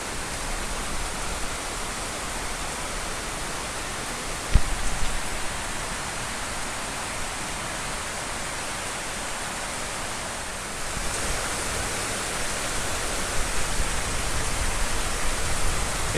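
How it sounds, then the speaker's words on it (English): Heavy rainy-season downpour at night in Panama, heard from a front porch: a dense, constant hiss of rain pouring on surfaces, loud and enveloping, with a single sharp knock partway through. "the rain is coming down so hard it's hard to believe here"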